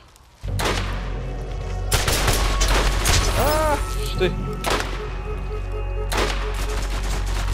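Rapid bursts of gunfire crackle in quick volleys in the video game Borderlands, loud and close, with a brief voice cutting in between shots.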